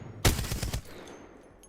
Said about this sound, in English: that's the Devotion, the LMG